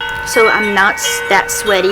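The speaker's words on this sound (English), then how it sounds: "sorry about the wind chimes, it's windy" Wind chimes ring in a gusty breeze outdoors, their steady metallic tones sitting faintly beneath a person talking close by.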